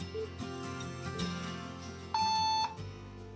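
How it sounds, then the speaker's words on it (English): A kitchen timer goes off with a single steady electronic beep tone lasting about half a second, heard over a busy background of music or room clatter. "let's hear what the timer sounds like when it goes off"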